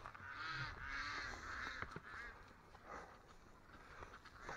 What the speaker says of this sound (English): I've never been told before to feed the ducks by the ducks.